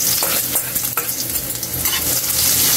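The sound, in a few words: ginger sautéing in hot oil for pork dinuguan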